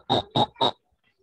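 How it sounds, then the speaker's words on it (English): Three quick, evenly spaced pig oinks, each short and nasal, sound up close and then stop cleanly into silence. "Sometimes the pig sounds like that in the farm."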